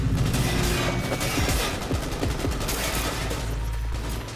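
Loud, continuous gunfire erupts in a Cyberpunk 2077 firefight, a dense barrage of overlapping rapid shots and bursts filling the scene with no voices over it.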